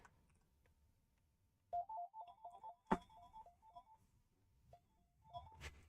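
A phone plays a short melodic electronic ringtone, a quiet run of bright notes that repeats twice with pauses and a sharp click between, heard close in a quiet room.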